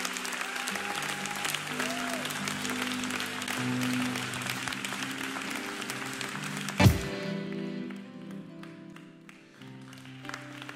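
A church congregation breaks into loud, sustained applause with cheering voices during a lively French-language sermon, then a sharp clap burst peaks before the applause fades under continued talk.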